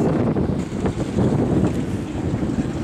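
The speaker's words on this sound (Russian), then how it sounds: "Происходит ветер, происходит штормовая погода" Strong stormy wind gusts outdoors, buffeting the microphone with a continuous low roar and rumble that swells and dips, loud and unbroken with no voices.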